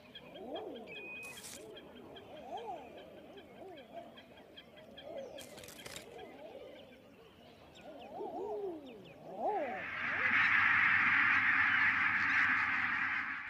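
Barnacle geese calling on a northern coast, a run of repeated nasal yelping honks from several birds, some near and some further off, before a harsh broadband hiss takes over toward the end.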